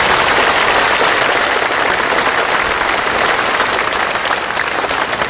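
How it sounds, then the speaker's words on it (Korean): An audience claps at a Sea Day commemoration ceremony, dense and continuous applause from a large crowd that holds steady for the whole stretch with no voices over it. "박수 한번 해주시죠"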